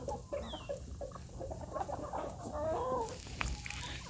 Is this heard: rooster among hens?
yes